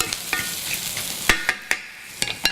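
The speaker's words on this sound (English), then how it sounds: "Start browning the onions" Onions brown in a pan alongside a little garlic, giving a close, steady sizzle punctuated by a quick series of sharp spatula scrapes and taps against the pan, with no talking.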